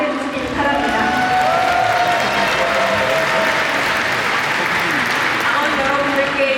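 A party convention crowd at a national members' assembly applauds steadily to welcome speakers to the stage, a continuous wash of clapping with faint cheers that holds evenly throughout.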